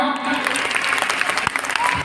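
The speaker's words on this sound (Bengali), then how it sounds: "আচ্ছা আরেকটু জোরে হাততালি দাও" Louder clapping from a seminar audience of makeup artists in Kolkata, a busy sustained burst of many hands close by, with a few voices mixed in.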